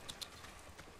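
Horse hooves clip-clopping while riding a horse in The Last of Us Part I video game, two crisp hoof strikes close together near the start, with a softer step near the end over a steady background hush.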